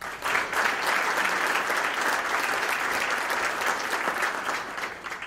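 At a Groundhog Breakfast in Nashua, New Hampshire, the audience applauds steadily for the full stretch, a dense, even wash of many hands clapping that tapers slightly at the end.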